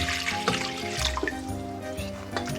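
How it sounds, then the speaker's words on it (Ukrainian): Tap water runs steadily into a cooking pot for brine for pickled tomatoes, a continuous splashing trickle heard up close and alone. "В кастрюлю наливаємо воду."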